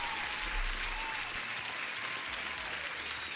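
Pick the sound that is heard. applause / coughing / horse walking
applause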